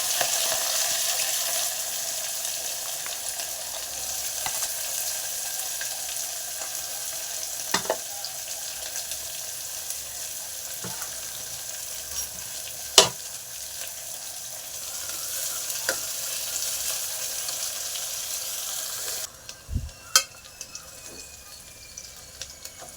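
Two onions sautéing in hot oil for a lung curry, a steady close sizzle broken by a few sharp clicks and scrapes of a spoon against the pan, no voices.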